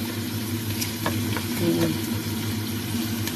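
Chicken sautéing in a pan for pineapple chicken, a steady soft sizzle with a few light stirring clicks, close and fairly quiet, with a low hum beneath.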